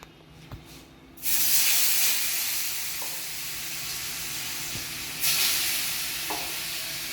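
Potatoes deep frying in hot oil give a steady loud sizzling hiss that flares up after a quiet start, with a second surge later and a few faint clinks of stirring.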